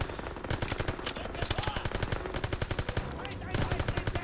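Rapid bursts of automatic gunfire in the Call of Duty WW2 video game, with rhythmic machine-gun rattles running almost continuously, briefly pausing and resuming near the end.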